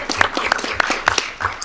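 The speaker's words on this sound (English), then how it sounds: "That deserves a hand clap." Hand clapping at a county board of education meeting, a short burst of sharp claps from a few people in the room, fairly close and uneven in rhythm.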